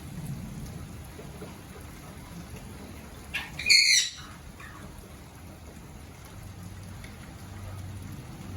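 Steady rain falls outdoors with a soft constant patter, broken by one short, loud burst of squawking from a nearby parrot about midway through.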